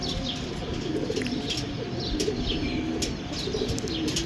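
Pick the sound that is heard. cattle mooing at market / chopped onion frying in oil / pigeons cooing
pigeons cooing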